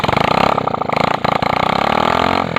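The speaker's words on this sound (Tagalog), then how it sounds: "Talagang ganito lang ang angdar kapag hindi pa linagay ang tambutso para pang chainsaw" An engine runs with no exhaust pipe fitted, giving a loud, harsh, rapidly pulsing rasp much like a chainsaw, with brief dips and surges in speed.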